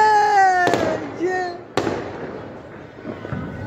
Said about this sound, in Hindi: वहाँ पर देखो पटाखे छूट रहे हैं